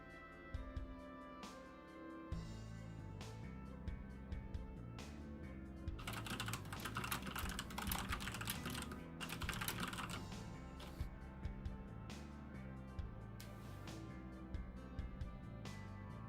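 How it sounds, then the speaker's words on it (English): Keys clatter on a computer keyboard in quick, uneven bursts for a long stretch, set over a steady tonal background in the online shooter game The Finals. "He's still typing, even now, if you can believe it."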